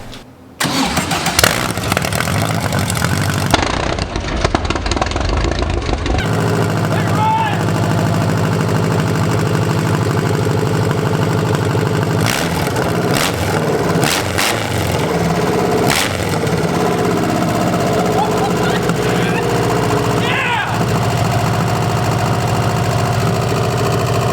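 A Subaru engine swapped into a 1971 Volkswagen Beetle cranks, catches and then runs loud and steady at a close idle, with brief rises in revs.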